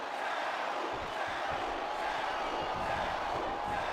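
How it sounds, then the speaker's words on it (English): Steady roar of a capacity arena crowd in the WWE SmackDown vs Raw wrestling video game, a dense continuous wash of cheering and shouting held at an even level throughout. "This capacity crowd has been on its feet the entire show."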